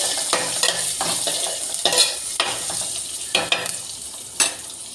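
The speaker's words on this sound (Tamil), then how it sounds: "இந்த பச்சை மிளகா போட்டுக்கணும்." Green chillies frying in a pan crackle and sizzle close up, broken by repeated scraping bursts as a utensil stirs them. No one speaks.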